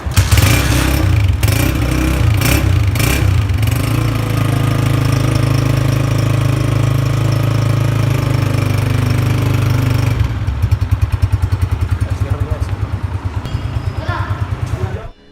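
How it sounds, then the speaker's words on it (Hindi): A Honda CG125 motorcycle engine runs steadily with a throaty, knocking idle, loud and close, then shifts to a lighter, pulsing putter near the end. "होंडा CG125 का साउंड जो है ये एक तो सुनने में बहुत अच्छा लगता है"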